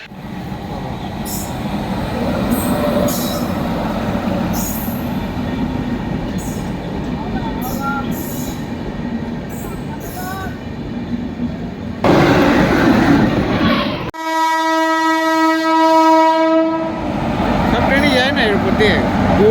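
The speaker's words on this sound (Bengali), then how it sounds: "আর এই ট্রেনটি দেবে বোলপুর স্টেশনের 2 নম্বর প্ল্যাটফর্মে।" The 13018 Ganadevta Express at platform 2 of Bolpur station gives a loud, steady rumble of rolling wheels and carriages, broken near the end by a long, sustained multi-tone horn blast; people talk over it.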